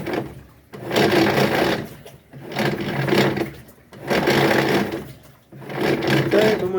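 Haceb washing machine grinding harshly during the wash, as if crushing stones, coming in loud rough surges of about a second and a half that stop and restart in a regular agitation rhythm, close and steady.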